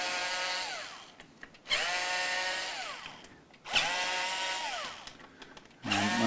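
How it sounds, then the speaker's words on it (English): A power driver loosens the neck bolts on a Telecaster-style guitar in three close bursts of whining motor, each running for about a second and a half with its pitch sliding downward, separated by short pauses. "Okay, so I'm just going to loosen off these bolts a minute."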